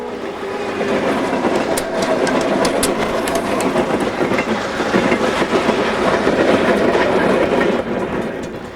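Conrail freight locomotives run light past in Wyandotte, Michigan, a loud rumbling engine drone mixed with rhythmic clacking of wheels over rail joints, continuous throughout with no voices.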